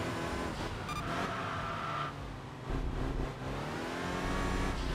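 Nissan S chassis and MR chassis race cars in Enthusia Professional Racing, engines droning and revving steadily with rising and falling pitch, a short whine partway through, no talk over it.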